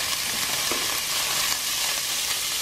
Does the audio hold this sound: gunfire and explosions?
no